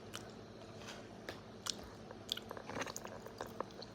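Someone eats cheesy lasagna up close, with soft, repeated bites, wet chewing and occasional crunchy snaps in an uneven rhythm. The sounds are quiet and there is no talking.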